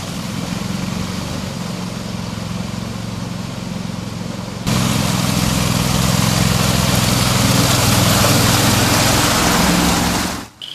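Argo amphibious ATV engine running, a steady loud droning rumble that jumps louder partway through as the throttle opens, continuing steadily before cutting off abruptly at the end.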